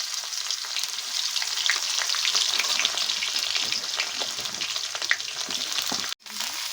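Snake gourd fries in hot oil with torn dry chillies and nigella seeds, giving a steady crackling sizzle with scattered pops and stirring scrapes, then a brief thud near the end.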